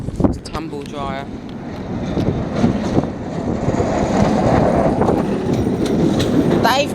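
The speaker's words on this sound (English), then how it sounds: "Here's the rickety train, with lots of cement inside." A rickety freight train carrying cement rolls past at Ryde with rumbling, rattling clatter, building in loudness amid wind noise on the microphone.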